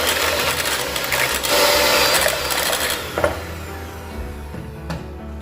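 An electric mixer whirs continuously and loudly as it beats cornbread muffin batter, its motor tone wavering slightly, then settling into a steadier, quieter hum with a few knocks.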